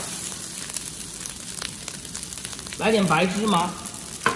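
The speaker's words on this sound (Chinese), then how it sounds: "把鸡蛋碎也倒进来，继续大火给它翻炒" Seaweed fried rice sizzles while being stir-fried in a wok over high heat, a steady crackle with scraping stirs, and a voice speaks briefly partway through.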